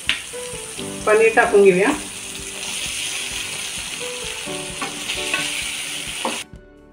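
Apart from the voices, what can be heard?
paneer frying in butter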